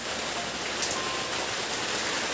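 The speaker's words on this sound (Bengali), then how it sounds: "আর এই বৃষ্টি কতক্ষণ চলবে কতদিন বা হবে" Heavy night rain pours outside a house in winter, a dense steady wash of drops on surfaces that fills the short stretch without a break, loud and even.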